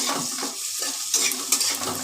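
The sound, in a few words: chopped onions frying in a pan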